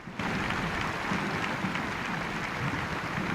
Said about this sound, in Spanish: Son los últimos minutos de Suárez en Madrid y solo se escuchan los aplausos.